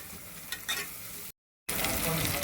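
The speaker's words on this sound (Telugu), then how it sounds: "ఒక 5 నిమిషాలు ఇలాగే వేయించుకోవాలి మసాలాని" Masala frying in a pan for ram's head curry: a faint, close sizzle with a couple of light stirring ticks, broken by a short silent gap before the hiss returns slightly louder.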